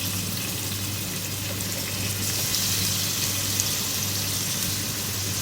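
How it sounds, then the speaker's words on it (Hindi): Two medium sliced onions frying in oil in a pot, a steady broadband hiss of sizzling that holds evenly throughout, close and moderately loud with no voices. "फ्राई करेंगे इसको, प्याज का लाइट गोल्डन कलर करना है"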